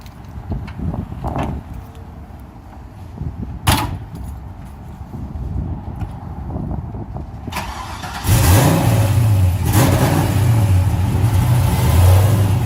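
A 1972 Chevelle V8 with a 3-inch exhaust sits idle through a stretch of quieter background rumble, then fires up suddenly and settles into a loud, deep, steady idle with a blip of revving, close by and without talk.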